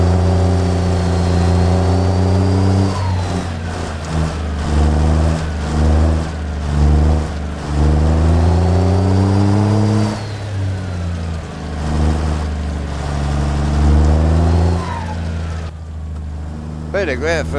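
A heavy truck engine in American Truck Simulator, driven with a manual transmission, revs hard and pulls under load. The loud, steady drone rises and falls in pitch through repeated gear changes.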